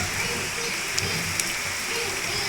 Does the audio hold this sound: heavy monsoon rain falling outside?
yes